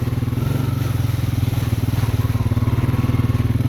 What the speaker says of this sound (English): When I feather the gas, it helps me get more traction to go through the mud pit.